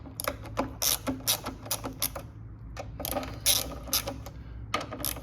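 Ratcheting and clicking of a tool working out 4mm Allen bolts on a bike, a rapid run of dry metallic ticks in short bursts with small pauses, close and alone.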